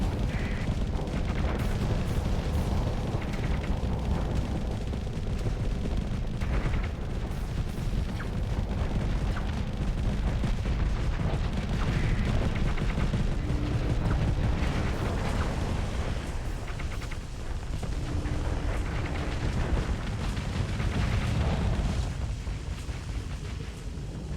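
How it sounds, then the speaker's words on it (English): Nova Cannon fire and explosions in the space combat game Starsector, modded Imperium of Man fleet battle: a dense, continuous roar of booms and blasts rumbling loudly throughout, with sharper hits layered over a heavy low barrage. "hit with the Nova Cannon"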